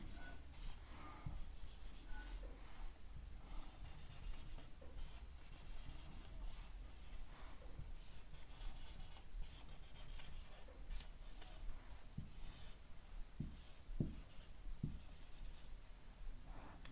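Someone draws an equivalent circuit diagram for a lecture on series and parallel resistors, making soft continuous scratching and rubbing strokes of pen on a writing surface that are faint and close, with occasional small taps and breaths.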